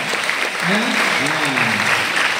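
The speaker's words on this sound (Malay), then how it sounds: "Sekali lagi kita berikan tepukan yang gemuruh" A school open-day crowd at SMK Merapoh gives a steady burst of clapping, a continuous dense patter lasting a couple of seconds, with a voice audible through it.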